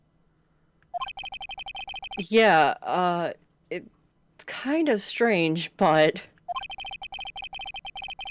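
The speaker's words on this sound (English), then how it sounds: "I heard a phone ringing just now." Electronic phone ringtone from the Phoenix Wright: Ace Attorney video game, a repeating trill played in bursts before and after a stretch of game dialogue, clear and fairly loud.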